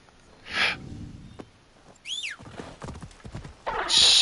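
Horse in Assassin's Creed Shadows: a brief whinny, then a sharp high neigh, followed by a run of clip-clopping hooves and another loud burst at the end, all close and clear.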